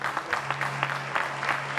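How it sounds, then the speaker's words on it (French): A studio audience applauds steadily at a French-language television show, a dense, even patter of clapping throughout with no talk over it. "Je vous demande d'applaudir très fort"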